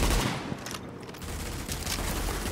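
Gunfire in the video game Tom Clancy's The Division, a loud dense burst of rapid shots that fills the whole moment, with no talking.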